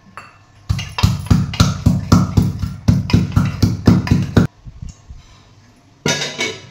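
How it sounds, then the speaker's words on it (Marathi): Garlic being crushed with a pestle in a home kitchen, about fifteen hard, evenly spaced pounding thumps, loud and close, followed by a pause and a final short burst of knocks. "लसूण तोपर्यंत ठेचून घेऊया."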